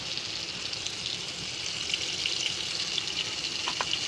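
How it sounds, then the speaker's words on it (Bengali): Potatoes fry in oil in a pan for a Bengali curry, giving a steady, close sizzle and crackle with a few sharper pops near the end, and no talking. "আলুটা উল্টে পাল্টে করে একটু হালকা লাল লাল করে ভেজে নিচ্ছি"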